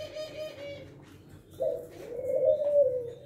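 Thai turtle dove cooing nearby, a few soft, low, resonant coos rising and swelling in a steady phrase, heard alone without talk.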